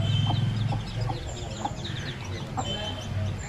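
Several chickens cluck on and off at close range while a small hen pecks. A low rumble runs underneath and soft calls come in bursts.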